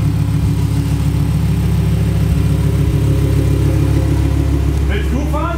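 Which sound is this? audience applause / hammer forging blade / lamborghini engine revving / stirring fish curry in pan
lamborghini engine revving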